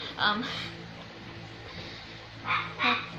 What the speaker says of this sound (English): you can hear the dog outside